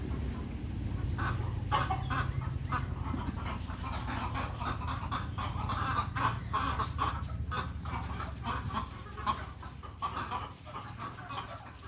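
Chickens clucking steadily on a small poultry farm with a bamboo platform, several birds overlapping in a busy, continuous chorus with sharp calls scattered throughout, close by and fairly loud, with no talking.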